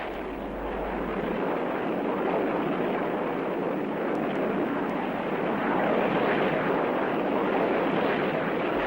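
Soviet military aircraft, flying in pairs and carrying UV-16-57 unguided rocket pod armament, roar past in a continuous, loud broadband rush with a steady rumble throughout and no voices.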